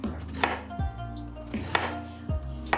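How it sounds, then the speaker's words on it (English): A knife chops fresh ginger on a cutting board, four crisp, evenly spaced thuds over a few seconds, close and distinct against a quiet background with no speech. "We're gonna quickly cut the ginger."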